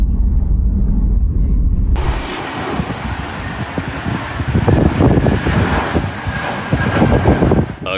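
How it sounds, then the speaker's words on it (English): An airliner's jet engines spool up abruptly for a crosswind go-around, jumping from a low rumble to a loud, sustained roar that stays close and heavy to the end. "the moment a pilot decides the approach isn't working and powers back up for another attempt"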